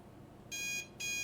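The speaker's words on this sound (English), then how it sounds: "I fucking hate the alarm sound effect." An electronic alarm clock in the video game Snoot Game beeps loudly in two sustained high-pitched bursts with a short gap between them, with no talking.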